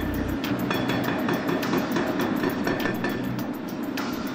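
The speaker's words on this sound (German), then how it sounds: "Leo kommt mit dem Hydraulikhammer und hämmert gegen die Beine des Turms." A hydraulic hammer pounds the legs of a tower during the demolition of a prison, a steady mechanical roar with a rapid run of metallic clanks throughout.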